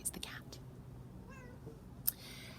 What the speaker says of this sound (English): Sorry, it's the cat.